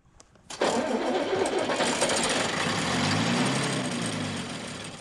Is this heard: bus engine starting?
yes